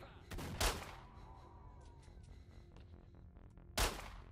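Gunfire in the game S.T.A.L.K.E.R.: Shadow of Chernobyl, two sharp nearby shots, one early and one at the end, with quieter ambient game sounds between them.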